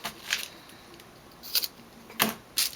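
Scissors cutting paper for a journal page make a few quick, crisp snips scattered over a few seconds, close and fairly quiet, with no talking.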